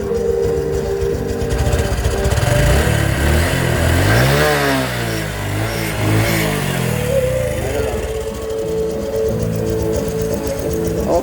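A Honda XRM125 motorcycle engine runs steadily after a top overhaul, close and loud, with a rising and falling rev in the middle before it settles back to a smooth idle.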